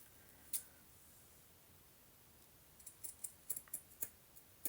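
Scissors snip paper pages for a handmade mini journal: one isolated crisp snip, a pause, then a quick run of about seven close, sharp cuts, faint and without talk.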